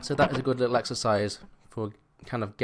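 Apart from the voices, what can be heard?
No everyday noise stands out behind the speech.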